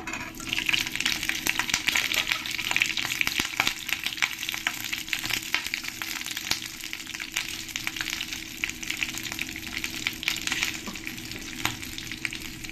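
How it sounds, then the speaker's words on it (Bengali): Sliced onions fry in hot ghee with a continuous crackling sizzle, close and moderately loud, broken by scattered sharp pops and occasional stirring scrapes, with no talking. "এবার আমি যে পেঁয়াজগুলো কেটে নিয়েছি এই পেঁয়াজগুলো আমি ফ্রাই করে নেব।"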